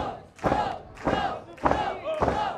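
A wrestling crowd in Lincoln Hall chants in a steady repeating rhythm during a tag team title bout, four loud punchy shouted beats echoing around the venue.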